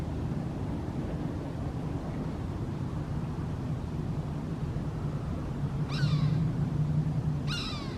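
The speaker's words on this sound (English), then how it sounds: "I'm not sure what kind of a hawk this is." A hawk calls twice near the end along the Tucson Loop trail, two sharp, descending screeches that rise clearly above a low outdoor rumble of wind and distant traffic.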